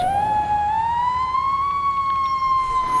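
An emergency vehicle siren in the video game EmergeNYC sounds a single long rising wail that climbs and then holds steady, loud and close, with no talk over it.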